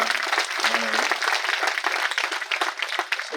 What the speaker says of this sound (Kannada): ವಂದಿಸುತ್ತಾ ಜೋರಾಗಿ ಚಪ್ಪಾಳೆಯನ್ನು ನಾವೆಲ್ಲ